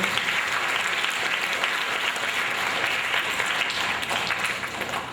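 Steady, full applause from a crowd at a gang violence presentation, thick continuous clapping held at an even level throughout, easing slightly at the close.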